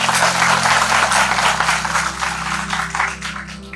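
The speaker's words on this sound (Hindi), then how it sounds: "तो इसके लिए ताली होनी चाहिए मेरे ख्याल" Applause from an audience at a talk by a writer and musician, a dense, steady wash of clapping that stays loud throughout and thins slightly toward the end, with a low hum underneath.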